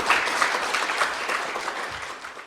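A seated audience gives a sustained round of applause at a gathering of car enthusiasts, an even, full patter of many hands heard alone without speech.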